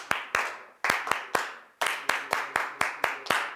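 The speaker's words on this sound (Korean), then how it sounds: "자, 337 박수" A group claps the 3-3-7 rhythm together: sharp, loud, unison claps with the first set partly cut off, then a burst of three and a quicker run of seven, each clap ringing briefly in a room.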